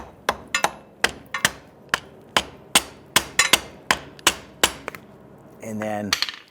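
Light hammer taps seating a part on a Jeep Grand Cherokee front suspension during a strut and spring swap, a dozen or so crisp, close strikes at an uneven pace, ending with a short scraping rattle.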